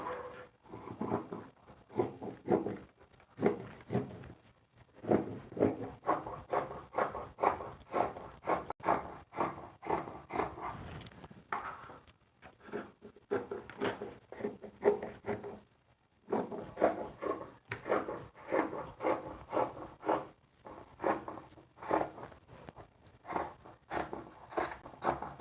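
Shirt fabric is cut by hand, with close, rhythmic snips and crisp crunches coming in steady runs broken by short pauses, quiet and with no talking.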